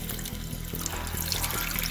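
Water pours steadily from a household sink tap in a rural village home into a container, a continuous splashing rush throughout with a faint low hum beneath, no talking.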